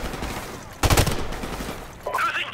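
An AK rifle with a red dot sight fires in Call of Duty Modern Warfare Remastered, a short rapid burst of gunfire in the middle of the clip, followed by a faint game effect.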